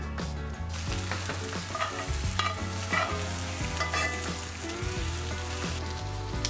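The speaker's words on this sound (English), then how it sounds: "get the pan nice and hot. And this will just grill these the rest of the way" Onions grill in a hot pan with a loud, constant sizzle and repeated low scraping strokes as they are turned, heard close and without voices.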